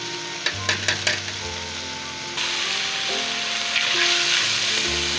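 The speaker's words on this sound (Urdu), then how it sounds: "یہ سب مرچی اور پیاز یہ شامل کر لیا۔" Green chilies and onions fry in a pan, starting with a few sharp knocks of a spoon against the pan and then settling into a loud, steady sizzle that swells as they are stirred.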